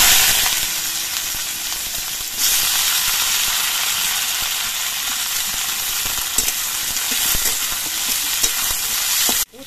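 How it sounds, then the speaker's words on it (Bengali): Slices of bitter gourd fry in the oil left in a wok, a steady loud sizzle and hiss that jumps up after a couple of seconds and runs on with faint stirring scrapes, no voices. "কড়াইতে এবার যেটুকু তেল আছে এই তেলের মধ্যে আমি উচ্ছে গুলো ভেজে নিচ্ছি।"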